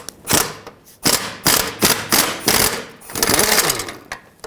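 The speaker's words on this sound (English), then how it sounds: "This is also a 14mm bolt, so let's get this one out as well." A 14mm bolt comes off the exhaust of a 2013-2020 Nissan Pathfinder during catalytic converter removal, heard as a close series of loud rattling tool bursts with short pauses between them.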